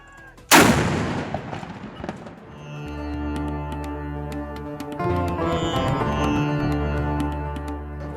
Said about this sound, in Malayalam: ഇഫ്താർ സമയം അറിയിക്കാൻ മുഴങ്ങുന്ന പീരങ്കി വെടി കൗതുക കാഴ്ചയാണ്